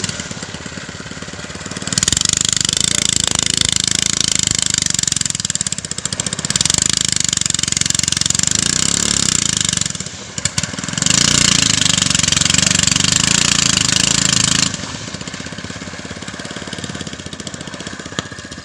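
A single-engine boat heavily loaded with cargo motors across the water: a loud, steady mechanical drone that dips briefly a few times and softens toward the end, with no talking.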